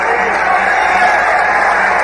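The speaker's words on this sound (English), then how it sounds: "Bennie Briscoe deserves all of the applause you're hearing here and more." Sustained crowd applause fills a boxing arena at the close of the Marvin Hagler versus Bennie Briscoe fight in Pennsylvania, a dense, steady wash of clapping and crowd noise that stays loud and even throughout.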